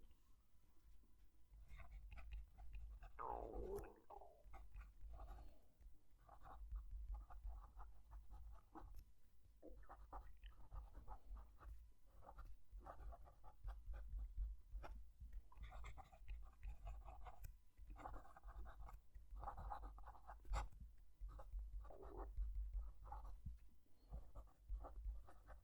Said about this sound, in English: I'm going to move the mic down to the page and write a sentence.